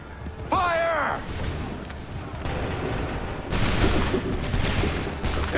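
A musket volley fires in the video game Assassin's Creed III, a loud burst of rolling gunfire and booms amid shouted commands and a horse's whinny, with the crackle of battle carrying on afterward.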